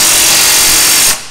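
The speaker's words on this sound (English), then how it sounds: "We're gonna tighten this one up" Power tool tightening a 19 mm bolt on a Jeep Wrangler JL sector shaft steering brace: a loud, steady whirring burst held for about a second, then cutting off sharply.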